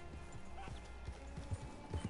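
Horse hooves clip-clop in Red Dead Online as a rider mounts up, a few soft irregular thuds over low game ambience, fairly faint and sparse.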